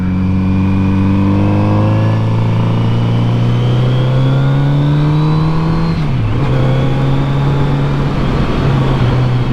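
Kawasaki Z900RS motorcycle on Virginia back roads: a loud, close engine drone steadily rising in pitch as it accelerates, a brief dip as it shifts gear, then pulling on again, continuous throughout with no speech.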